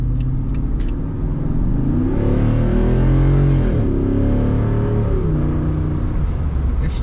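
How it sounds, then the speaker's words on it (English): The V8 engine of a 2021 Jeep Wrangler Rubicon 392 revs hard under full-throttle acceleration with the performance exhaust closed, its loud exhaust roaring and rising in pitch through the gears, close up. "I'll floor it with the performance exhaust off."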